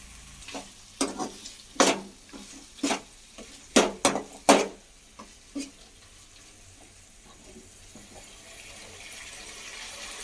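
Tamarind frying in oil in a pan for tomato chutney, stirred over medium-high heat: a series of sharp, close scraping strokes with sizzle, then a quieter steady frying hiss.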